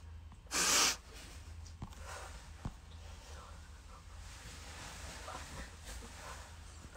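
A single sharp sneeze bursts out close to the microphone near the start, loud and brief, followed by several seconds of quiet room tone with only faint small noises.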